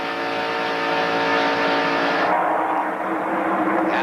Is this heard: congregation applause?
no